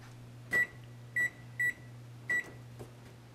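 Four short electronic beeps from an oven timer being set, evenly spaced at first then a pause, over a low steady hum like an appliance running.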